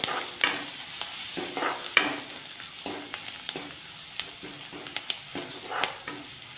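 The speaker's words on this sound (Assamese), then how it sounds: "এয়া চাওক পিঁয়াজখিনি ধুনীয়াকৈ অকণমান ভজা হৈ গ'ল।" Onions frying and being stirred in a pan with chili and turmeric powder, a steady close sizzle broken by repeated scraping stir strokes, with no talking.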